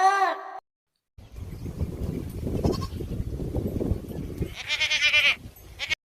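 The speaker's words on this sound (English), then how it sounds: "G for goat" A goat bleats a few times, one short call at the start, then a longer wavering bleat near the end over a rough rustling farmyard background.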